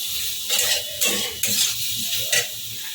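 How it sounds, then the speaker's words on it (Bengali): Masala bhindi (okra) stirred in a pan on the stove, with a short splash of water added, giving a few bursts of scraping and sizzling over a low steady hiss, with no voices. "ভালো করে নেড়ে ফেড়ে নেব"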